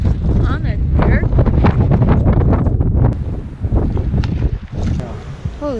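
Strong wind buffets the microphone at a creek during a fishing tournament, a loud continuous roar and rumble with gusts, while people talk over it.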